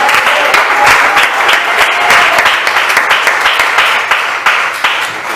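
A church congregation applauds loudly and continuously, dense rapid clapping from many hands filling the space at close range without a break.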